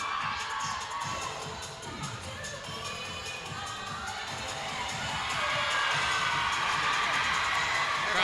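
A crowd at the 2022 ECC Cheerleading Championship cheers and whoops, with children's high shouts mixed into the roar, which swells louder in the final seconds.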